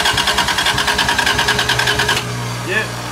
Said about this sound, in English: Here's the fuel pump, but it's a small one